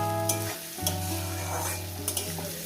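Tomatoes and masala frying for an egg curry in a pan on low heat, a steady soft sizzle with occasional stirring scrapes, continuous and close, with a sustained tonal hum underneath.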